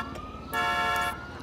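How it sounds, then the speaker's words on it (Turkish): A car alarm wails in the game GTA 5, a steady electronic tone rising into a brighter blaring stretch that cuts off, heard alone at moderate loudness. "Alarmı sustur, başımızı belaya sokacaksın."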